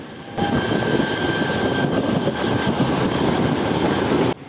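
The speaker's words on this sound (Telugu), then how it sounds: "మన ట్రైన్ పక్కనే గూడూరు వరకు ఒక ప్యాసింజర్ ట్రైన్ అయితే వెళ్తుంది" A loud, close passenger train rumbles past alongside on a parallel track in a steady roar, the rushing noise holding constant before cutting off abruptly.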